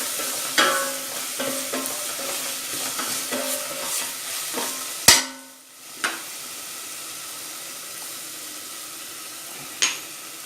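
Onions with salt, chili powder and coriander powder sautéing in a pan for kuska, a steady close sizzle with repeated scraping stir strokes and a few sharp clanks of the spoon against the pan.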